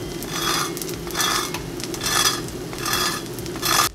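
A short rib grilled cheese sandwich fries in butter in a hot pan, giving a steady close sizzle with soft hissing swells that rise and fall every second or so, with no talk.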